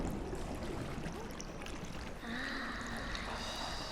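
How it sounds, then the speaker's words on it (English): Rising water in The Dregs video game: a steady, rushing wash of flowing water with faint splashing, holding at an even level and joined midway by a thin tonal whine. "I'm gonna slowly wait for this water to rise."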